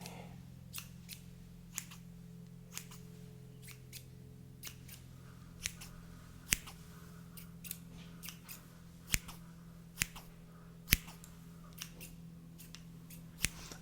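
Scissors snip repeatedly at an uneven pace, crisp close cuts over a faint background hum, no talking.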